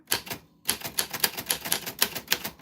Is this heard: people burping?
no